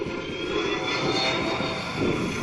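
Airplane on a landing approach, hit by wind shear and aborting the landing, its engines a steady, moderately distant roar with no voices.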